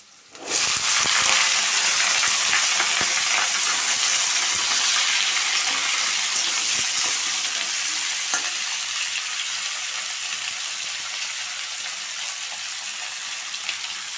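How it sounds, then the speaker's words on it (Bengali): Kohlrabi and potato chunks fry together in mustard oil in a pan, giving a loud, steady sizzle that starts abruptly and holds throughout, with occasional clicks of stirring. "ওলকপি আর আলুটা ভেজে নিচ্ছি দুটো একসঙ্গে দিয়ে ভেজে নিচ্ছি"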